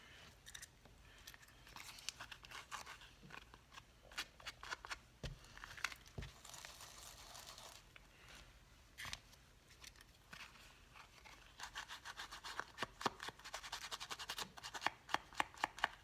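Dry scratchy rubbing and soft taps of a distress ink tool worked around the edge of a paper card, intermittent strokes in bursts over a quiet room, fairly faint and close.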